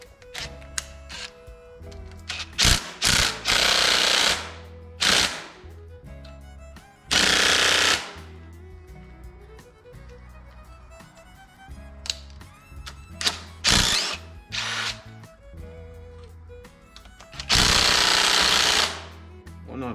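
An impact wrench hammers at the water pump bolts on an Oliver 88 Row Crop farm tractor, loud rattling bursts of several seconds each separated by pauses, with no talking.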